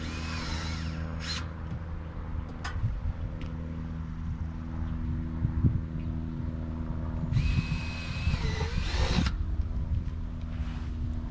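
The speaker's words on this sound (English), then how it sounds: "Okay, all the pilot holes are drilled." A power drill bores pilot holes into trailer bunk boards in two brief high whines, set against a steady low engine-like hum that persists throughout, close and moderate.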